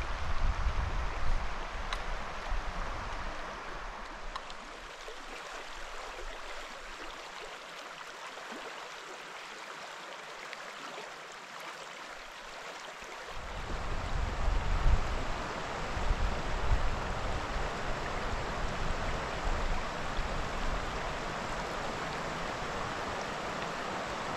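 River water rushing steadily along a bank in a remote wilderness, a broad, continuous close wash of flow that dips briefly quieter then swells back, with no voices.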